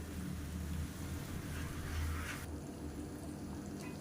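Boiling water poured into a pot of sambar made with ground sambar powder, a steady near rush of liquid splashing that cuts off abruptly partway through, leaving a low background hum.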